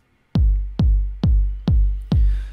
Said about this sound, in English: the kick drum itself sounds like this